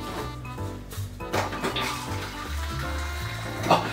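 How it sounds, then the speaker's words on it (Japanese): Hot water running from a kitchen tap, a steady close splashing stream with a few clunks of handling, no talk. "いつもの癖でお湯入れちゃって"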